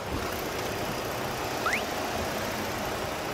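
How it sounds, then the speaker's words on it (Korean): A Ford Explorer gasoline engine idling steadily with the hood open, a low, smooth hum with no talking and only a faint brief chirp partway through. "지금 바로 포드 익스플로러 차량의 엔진 소리 한번 자세하게 들려드릴게요"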